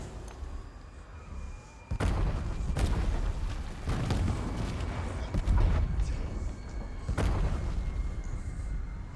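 Repeated booming explosions in a video game, several heavy blasts at irregular intervals over a constant rumbling din, loud and close.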